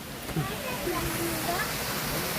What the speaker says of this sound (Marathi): तर असा आहे वॉटरफॉल